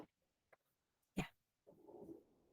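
Small Shih Tzu Toy dog giving a sharp, close bark after a few faint soft sounds, then a short rough growly vocal sound, with quiet gaps and no talk.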